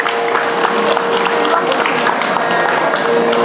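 Audience applause for a Kuchipudi classical dance guru after her performance, a dense steady round of clapping from a crowd that holds evenly throughout, with a faint sustained tone beneath.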